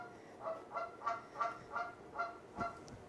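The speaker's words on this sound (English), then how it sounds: "I don't know if you guys can hear that. That's my goose." A pet Canada goose honks in a steady series of about eight calls, moderately close and fairly loud over a quiet background, with no talking.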